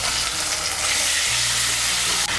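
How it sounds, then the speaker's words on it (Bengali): Ginger paste loosened with a little water fries in a pan for a pumpkin curry, a loud, dense, close sizzle that holds steady throughout. "এর মধ্যে দিয়ে দেবো সামান্য একটু জল যেন আদা বাটাটা না ছিটকোয়।"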